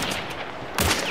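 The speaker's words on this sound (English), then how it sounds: "Shots hit him once." Gunfire in the game Hunt: Showdown, a couple of sharp reports, one loud close shot near the end standing out over faint earlier cracks.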